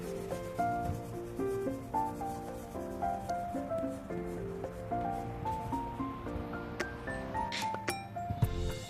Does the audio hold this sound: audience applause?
no